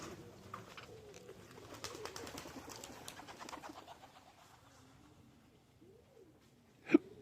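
Pigeons coo softly in a loft, a low wavering murmur of several birds under faint background hiss, ending with one sharper, louder burst near the close.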